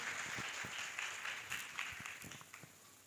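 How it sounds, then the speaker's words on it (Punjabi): At a church gathering, worshippers clap to praise God, a faint, distant round of uneven hand claps with some sharper individual claps standing out. "ਤਾਲੀ ਵਜਾ ਕੇ ਉਸ ਪਰਮੇਸ਼ਰ ਦੀ ਤਾਰੀਫ ਕਰਾਂਗੇ"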